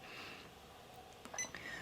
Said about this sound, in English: The beep that you just heard when I pressed that sewing machine, that's buzzer sound.